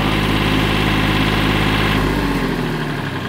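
A Cub Cadet EX3200 compact tractor idles loud and close on a snowy day, its engine giving a steady, vibrating rumble with no one talking.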